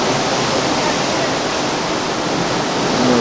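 Rough sea with 8- to 10-foot waves churning a few stories below a cruise ship's outer deck in Alaska, heard as a steady, loud, broadband wash of surf and wind with no break.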